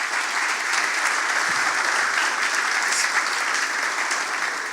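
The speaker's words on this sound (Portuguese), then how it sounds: "Dá um forte aplauso ao Senhor Jesus." Steady, dense applause from a church congregation fills the space throughout, loud and sustained with no talking over it.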